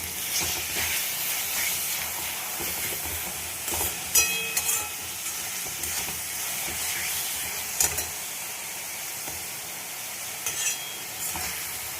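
Red amaranth greens being stirred in a pan with green chilli, salt, turmeric and a little milk, giving a steady wet scraping and soft sizzle with occasional louder clinks of the utensil against the pan, no talking.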